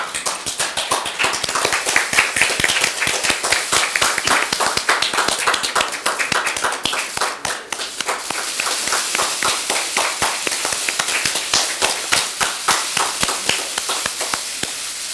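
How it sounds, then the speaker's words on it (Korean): An audience at a political party event claps in sustained, even applause to welcome guests, including women's basketball and handball figures. The clapping is loud, dense and rhythmic throughout, with no voices over it. "박수로 맞아주시기 바랍니다"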